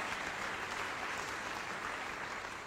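A church congregation breaks into sustained, dense applause that stays steady and loud for the whole stretch, with no voice standing out above it.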